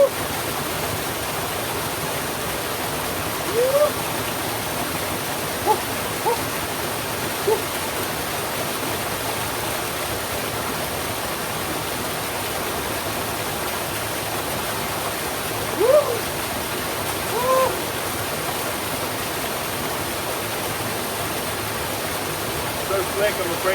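A wild stream's rushing water hisses steadily and broadband throughout, close by, with a few brief splashes and small bumps.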